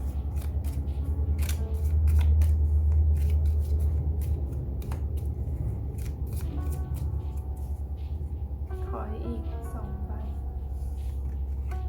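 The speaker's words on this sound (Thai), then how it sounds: "ขออภัยในการสับไพ่ที่ไม่ค่อยเก่ง" Tarot cards are shuffled in steady, crisp flicking and ticking riffles over a low steady hum, fairly close, with no voice over the shuffling.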